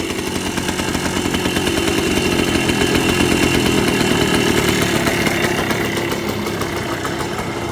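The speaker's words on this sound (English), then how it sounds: "I've wound the idle up on this one," A Mudbug mini bike's small engine idles with its idle set high, a steady close, loud buzzing putter that runs without pause and with no talk over it.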